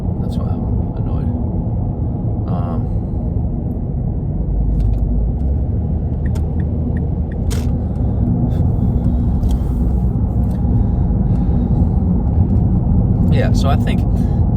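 Steady low road traffic rumble of passing cars, continuous and fairly loud throughout, with faint higher noises scattered on top.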